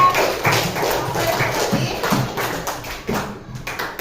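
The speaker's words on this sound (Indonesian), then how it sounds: "Jadi tepuk tangan dulu untuk semua kerja." A group of children in a classroom claps hands in a loose, scattered patter with soft thuds, fairly close, fading toward the end.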